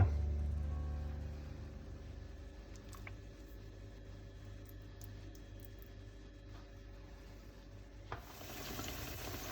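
Courgette fritters fry gently in a pan, a faint, even sizzle that holds steady with a few light clicks, louder and brighter toward the end, with no one speaking.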